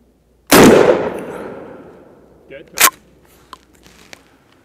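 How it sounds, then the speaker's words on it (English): A Mossberg 835 Ulti-Mag 12 gauge turkey shotgun fires once from 40 yards, one loud sharp blast with a long rolling echo, then a quieter crack and a few faint clicks as it fades. "So we'll fire it from 40 and see what kind of pattern we get out here at 40."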